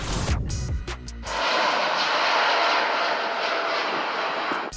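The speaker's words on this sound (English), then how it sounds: "This is likely footage from air shows, and they are demonstrating the capabilities of these airplanes." Airplane engines roar loudly and steadily at an air show, a sustained powerful drone that swells and holds after a brief rougher onset, with no talking.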